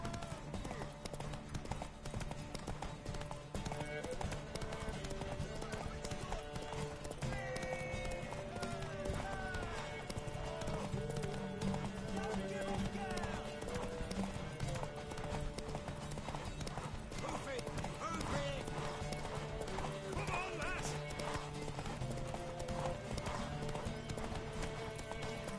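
Horse hooves gallop in The Witcher 3 with a steady, rapid clip-clop that runs throughout. Game music plays along with it, and voices talk over the hoofbeats.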